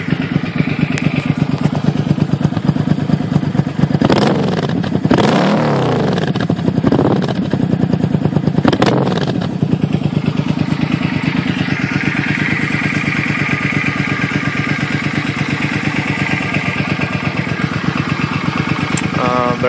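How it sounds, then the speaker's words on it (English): A 2007 Suzuki M50 motorcycle engine running close to the exhaust, a steady loud throbbing idle with a couple of quick throttle blips early on, then settling back into an even rumble with some wind buffeting. "I'm gonna try to hold the camera near the exhaust."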